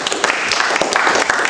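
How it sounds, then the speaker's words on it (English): An audience claps for a speaker at a talk, a dense, steady burst of applause that fills the room with many overlapping hand claps. "let's give Dr. Ken Corbit another round of applause"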